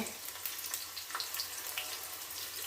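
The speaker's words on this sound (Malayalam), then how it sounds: "കടുക് വറുക്കട്ടെ," Mustard seeds fry in hot oil while cooking sambar, giving a steady bright sizzle with scattered pops and crackles throughout, close and fairly loud with no talk.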